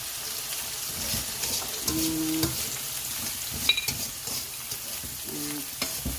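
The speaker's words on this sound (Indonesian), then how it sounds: "Bapak panasin nasi goreng" Nasi goreng (fried rice) being reheated in a pan sizzles steadily and close, with scraping stirring strokes and a few clinks of the utensil.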